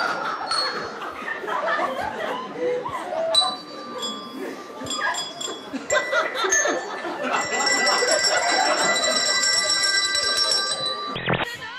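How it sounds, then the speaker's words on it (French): A small bell rings in a TV studio, with several bright chimes amid chatter and laughter, then a sustained ringing tone toward the end over ongoing voices. "Une cloche?"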